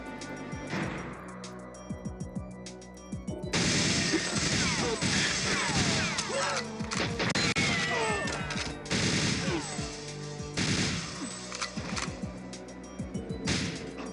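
Submachine gun fire in GoldenEye 007 on the Nintendo 64, heard as dense bursts of rapid shots mixed with crashes and impacts, loud and near, continuing almost without pause through most of the stretch.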